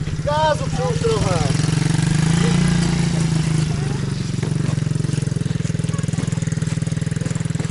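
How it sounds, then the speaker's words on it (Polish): Dirt bike (cross motorcycle) engine running close by, a steady low droning idle that swells briefly as the throttle is opened, with people talking over it at the start. "Gazu przyłóż trochę."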